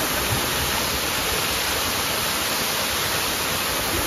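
A hidden waterfall in Ooty rushes and pours down stepped rock into green water below, a dense, steady broadband roar filling the whole stretch without pause or voices.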